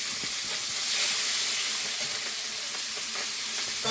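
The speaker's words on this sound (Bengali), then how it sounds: "এদিকে শাকের তরকারিতে চাপাবো একটু কালো জিরে তেলে রসুন কিছু কাঁচা লঙ্কা" Black cumin, garlic and green chillies sizzle in hot oil for a pumpkin-greens curry, a loud, steady bright hiss of frying that fills the whole stretch with little change.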